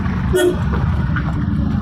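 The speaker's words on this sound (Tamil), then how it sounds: "நிறைய ஹார்ன் அடிச்சுங்க" A short car horn toot sounds briefly amid steady, loud road traffic noise in India during driving lessons, with engine rumble continuing throughout.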